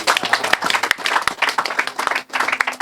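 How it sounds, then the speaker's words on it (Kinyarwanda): An audience claps together in a steady, dense burst of applause that holds at an even, lively level throughout, close and fairly loud. "twese tumukomera amashyi bose"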